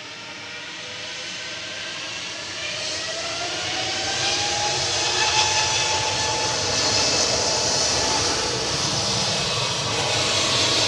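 Jet engines of a Swiss airliner at Manchester Airport, a broad steady roar with a hissing whine that swells gradually and holds loud and fairly close, with no voices.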